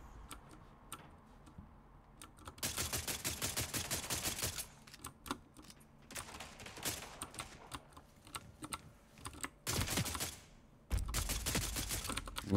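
Rapid bursts of gunfire in the shooter game Spectre Divide crackle in dense, sharp volleys separated by brief pauses, with several loud sustained stretches of clattering shots and no talk.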